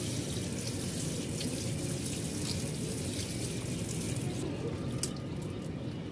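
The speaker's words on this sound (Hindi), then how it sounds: "अच्छी तरह मैंने इनको पानी से धो लेना, साफ़ पानी है, ताकि इनमें से साबुन निकल जाए" Tap water runs steadily as rubber dumbbells are rinsed clean of soap and vinegar, a continuous close splashing flow with no talking.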